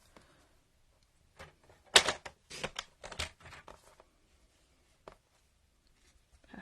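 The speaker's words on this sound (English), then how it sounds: "just trimming that little bit off" Scissors snipping a small bit off a papercraft piece, a few short crisp cuts clustered in the middle, close and fairly quiet with near-silence around them.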